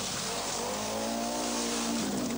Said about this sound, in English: the privately entered four-wheel drive Audi Quattro, taking things relatively easy